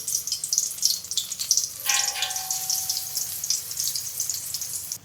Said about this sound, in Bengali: এবার এইভাবে ছোট ছোট করে বড়াগুলো আমি ঢেলে দিচ্ছি।